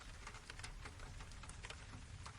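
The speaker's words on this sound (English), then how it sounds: "The sound changes from the open patter of rain on cobblestones to a more intimate drumming on roof tiles and windowsills." Rain drums on roof tiles and windowsills with a dense, steady patter of close drops and soft thuds, faint and continuous.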